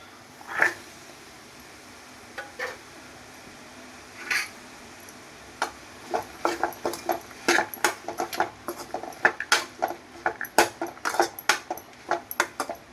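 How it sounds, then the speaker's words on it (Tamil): Chopped vegetables tipped into a pan of softened tomato for a kurma curry and stirred, sparse clinks at first giving way to quick, irregular metallic scrapes and taps of a spoon against the pan, close and alone. "இப்போ நம்ம அரிஞ்சு வச்சிருக்க காய் எல்லாத்தையும் போட்டுக்கலாம்."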